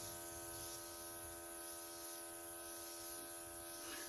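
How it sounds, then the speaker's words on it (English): Airbrush spraying makeup onto a face gives a steady, close hiss of air and spray over a constant compressor hum, running evenly for about four seconds with no talking. "Always relax your face when you're spraying your airbrush."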